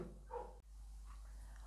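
One short, faint dog bark sounds from a distance, alone against quiet background hiss.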